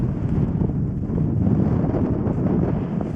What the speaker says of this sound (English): Wind's blowing a bit this morning.